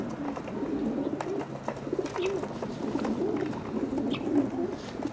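Racing pigeons bred for marathon distances coo continuously up close in a loft, a dense layer of overlapping low throaty coos with no talk.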